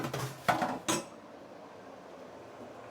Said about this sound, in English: get the lid, close it